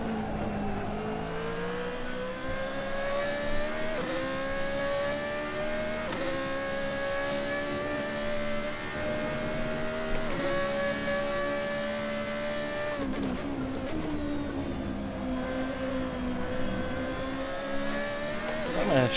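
A Formula Renault 3.5 race car in Assetto Corsa screams through its gears, a loud close engine note climbing steadily and dropping sharply at each upshift, repeated across a lap with no talk over it.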